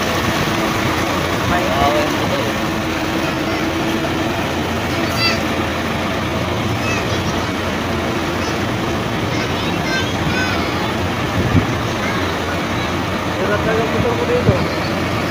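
A motor engine runs at the seaside Baseco port area in Manila as a loud, continuous drone with a rough rumble that stays steady throughout, with voices faintly mixed in.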